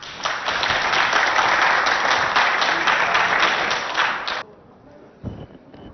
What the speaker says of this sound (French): Sous vos acclamations.